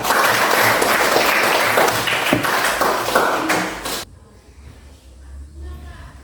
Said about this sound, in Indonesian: mari kita tepuk tangan untuk keempat kelompok yang sudah mempresentasikan hasil diskusi dengan baik